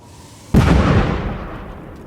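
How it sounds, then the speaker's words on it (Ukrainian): A single powerful explosion as a drone strike hits a tank bursts suddenly, then rolls off into a long, fading rumble. "Найпотужніший вибух."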